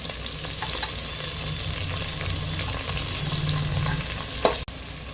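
Onions and tomatoes frying and being stirred in a pan for a crab soup, a steady close sizzle with soft scraping of the spoon throughout and a brief clatter near the end.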